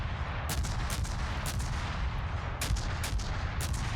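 The Musashi battleship's main guns fire in World of Warships on a very fast reload, a rapid string of sharp booming shots about every half second over a steady loud roar of battle.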